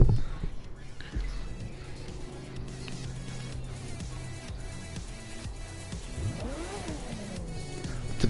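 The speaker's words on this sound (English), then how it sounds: "Typical Porsche sound." A Porsche engine in The Crew 2 drones steadily at mid pitch, then rises and falls in a sweeping rev near the end, loud and continuous with no talk over it.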